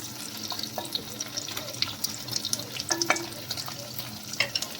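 Food fries in a clay pot (matka) while paneer butter masala is cooked, giving a soft, steady sizzle with faint crackles and occasional stirring clicks, fairly quiet and close.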